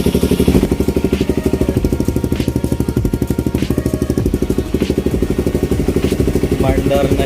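A Raider 150 motorcycle fitted with dual carburetors runs steadily close by, its engine putting out a rapid, even chugging pulse with some mechanical clatter, while voices talk over it.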